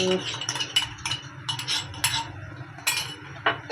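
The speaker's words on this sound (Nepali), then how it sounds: "अब चाहिँ म यसमा अदरक लसुन हाल्दैछु।" Spoon scraping and clinking in a pan as ginger garlic paste is stirred into frying onions for a home curry, with repeated close metallic taps and scrapes and light sizzle beneath.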